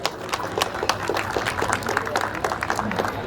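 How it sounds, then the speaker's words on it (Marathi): A crowd of guests claps steadily and energetically for the father at a baby shower celebration, a dense, sustained round of applause with sharp individual claps throughout, fairly close and loud. "त्यांच्या बाबांसाठी सुद्धा एकदा जोरदार टाळ्या होऊन जाऊ"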